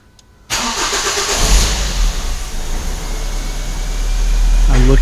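A 2007 Ford Focus engine cranks and catches after a brief quiet moment, then settles into a loud, close, steady idle with a rising drone, and a voice speaks briefly near the end.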